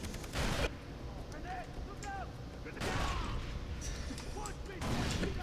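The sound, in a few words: grenade explosion in video game Far Cry 3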